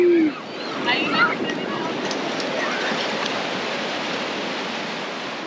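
Ocean waves wash steadily onto the sea shore at Punta Perula, a loud, continuous broad roar of surf close by with a brief voice at the start.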